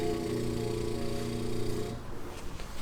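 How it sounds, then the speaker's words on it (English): Isuzu D-Max with a snorkel, a turbo whistle with steady tonal harmonics over engine drone that cuts off near the end, leaving a rougher idle; fairly faint and close. "This is what this snorkel sounds like."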